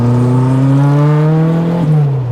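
A 1984 Renault R5 Turbo 2 engine accelerates loudly and close, its steady rising drone climbing in pitch, then briefly dipping at a gear change before pulling again.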